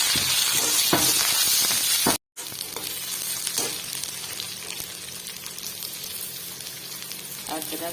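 Curry leaves and chilies sizzle loudly in hot oil while cooking upma sambar, a steady crackling fry with a brief cut of silence partway through and faint stirring.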